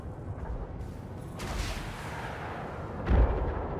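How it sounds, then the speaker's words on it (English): Point defense guns fire at incoming missiles in a space combat video game, a dense rolling rumble of bursts with a louder boom near the end, no talk over it. "And my point defense is shooting."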